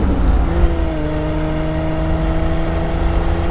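A 1976 Triumph TR6 with overdrive is driven and shifts down into second, its engine droning steadily from inside the cabin. A rising whine follows the gear change, and there is no talking.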